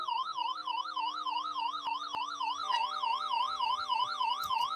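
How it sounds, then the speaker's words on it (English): A police car siren in a video game wails in a steady, loud, rapidly oscillating up-and-down tone that carries on without pause, with a faint thump or two underneath. "the siren's a bit loud, isn't it?"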